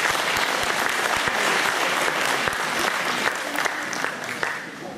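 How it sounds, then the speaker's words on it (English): Warm round of applause from an audience at a Vedanta community gathering after a performance, a steady dense clapping that holds evenly throughout, fairly close and full. "Please give another warm round of applause."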